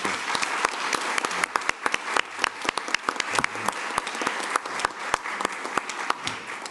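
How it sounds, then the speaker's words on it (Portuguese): An audience at a taxation and climate change conference in Coimbra applauds a professor, with many sharp individual claps standing out from a steady patter of clapping that continues throughout. "Palmas."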